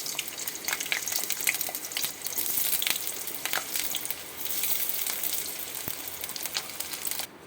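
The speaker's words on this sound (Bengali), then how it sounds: "কড়াতে তেল গরম হচ্ছে, আমি একটা একটা করে সবজি ভাজবো।" Potato pieces fry in hot oil in a kadai with a continuous hissing sizzle, broken by scattered sharper pops and crackles, steady and close throughout with no talking.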